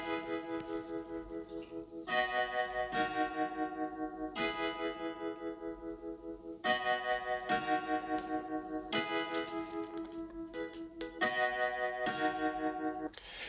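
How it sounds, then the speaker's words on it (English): Wavy synth patch from the Serum plugin playing a repeating chordal pattern, pulsing in regular phrases with a wobbling, undulating texture, moderately quiet and heard alone without voices. "It had this dope wavy sound."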